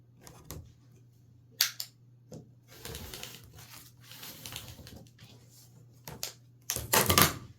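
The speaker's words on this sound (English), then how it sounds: "let me trim that extra interfacing off" Scissors trimming excess interfacing from a quilted wall hanging, close sharp snips in irregular bursts separated by quiet gaps, with fabric rustling between cuts.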